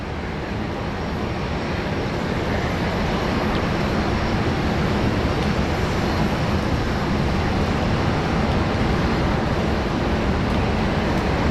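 Cargo airplane at Sydney Airport, a loud, steady broadband engine roar with a deep rumble that holds evenly throughout, with no voices.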